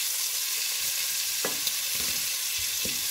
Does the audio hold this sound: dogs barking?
no